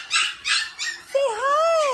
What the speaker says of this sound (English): Rosita's puppies are wanting to play.